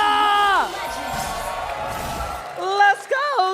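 Crowd noise at a Mobile Legends esports match between EVOS and Geek, a broad roar of cheering under an excited caster's voice, with a loud whoop rising near the end.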